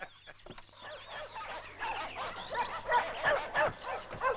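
Several dogs bark and yip in an uneven, overlapping chorus that starts sparse and builds louder toward the end, with a faint steady hum underneath.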